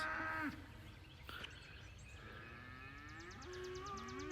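A few low Dexter cattle moos, drawn out and fairly close, outdoors on pasture, with a quieter bird chirping near the end.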